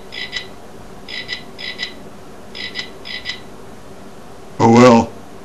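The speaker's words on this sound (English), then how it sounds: "At least the frogs like me." Frogs croak in short, paired bursts, a scattered series of soft, fairly near calls repeating at an uneven pace, followed by a brief loud spoken voice at the end.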